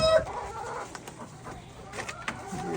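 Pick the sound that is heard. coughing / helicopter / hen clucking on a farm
hen clucking on a farm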